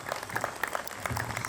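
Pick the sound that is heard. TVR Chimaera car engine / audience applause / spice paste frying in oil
audience applause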